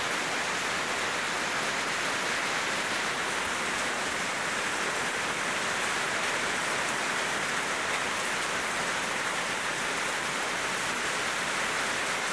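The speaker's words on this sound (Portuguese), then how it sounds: "Essa chuvinha abençoada." Light rain falls steadily outdoors in the countryside, a soft, even hiss of drops on surfaces that stays constant throughout with no voices.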